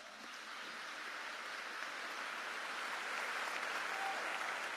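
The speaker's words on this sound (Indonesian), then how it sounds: "Ini tepuk tangan untuk kita semua." Sustained applause from an audience at a Ramadan event in an Islamic boarding school hall, a steady, fairly distant wash of clapping that swells slightly and continues evenly throughout.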